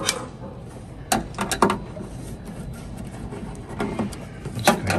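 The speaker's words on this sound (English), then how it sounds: "Now we unscrew the top part." Unscrewing the top panel of an Epson 7890 large-format printer during repair, heard as scattered clicks, taps and handling knocks, with a few sharp transients around the middle and near the end over a quiet room background.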